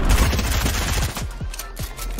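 A grenade blows up in a first-person shooter game amid a rapid burst of gunfire, making dense, loud crackling booms that thin out into a few separate low thumps.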